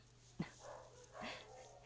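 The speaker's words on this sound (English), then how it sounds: "I'm sure you probably hear my dog Anubis downstairs" A territorial dog barking somewhere downstairs in a house, two short muffled barks spaced about a second apart, distant and fairly faint against a low steady hum.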